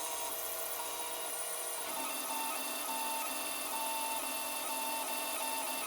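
3D printer fitted with a BLTouch probe printing with the heat bed at 70 degrees, a steady whirring of fans and stepper motors with a faint shift in tone partway through, continuous and fairly quiet.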